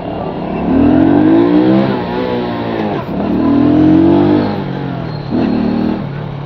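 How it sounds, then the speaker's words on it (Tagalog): A Euro Marvel 125 cab-type motorcycle engine roars loudly up close, revving up twice with a brief dip between, then surging again near the end. "Ito yung distinctive roar ng cab type."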